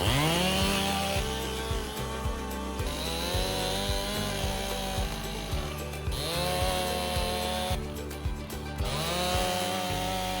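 Chainsaw cutting into a tree on a homestead, engine revving up and bogging repeatedly as the chain bites wood, steady and loud with periodic pitch dips through several cuts.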